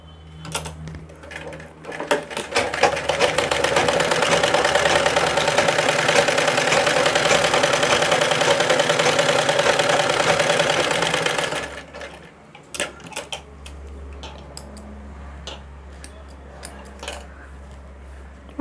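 Sewing machine running a line of stitches on cloth for a cross patti seam, a fast steady mechanical whir for several seconds after a few short starts, then stopping to quieter handling sounds.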